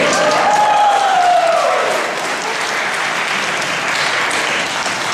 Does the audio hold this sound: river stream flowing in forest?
no